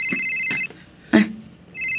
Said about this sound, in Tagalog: Agririn ti cellphone ko.